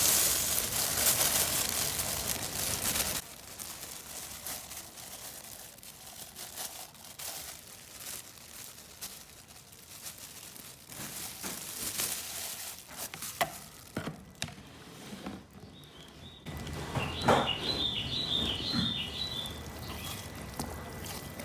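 Grated coconut being squeezed by hand in water to make coconut milk for homemade virgin coconut oil: quiet, close wet sloshing and squelching with soft splashes and rustles, varying in intensity, and a brief high tone near the end.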